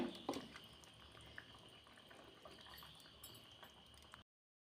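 Fish curry simmering in a pot, a faint steady bubbling with soft liquid ticks, quiet and close, with no talk.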